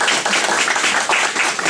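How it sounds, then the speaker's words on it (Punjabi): A church congregation claps to welcome a speaker, a steady, dense wash of many hands applauding together, loud and close, with no voices standing out. "ਅਸੀਂ ਸਾਰੇ ਤਾਲੀਆਂ ਦੇ ਨਾਲ ਸਿਸਟਰ ਪੈਮ ਨੂੰ ਤੇ ਖੁਦਾਵੰਦ ਦੇ ਕਲਾਮ ਨੂੰ ਵੈਲਕਮ ਕਰਾਂਗੇ।"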